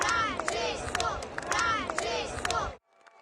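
Hundreds of faithful cheer for Pope Francis as he appears on a balcony of Gemelli hospital in Rome, a loud crowd roar with bursts of shouts that cuts off abruptly into near silence.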